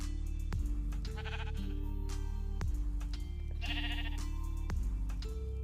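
Sheep in the Minecraft video game bleat in several distinct, nasal calls spaced a second or two apart, loud and close over a low steady background.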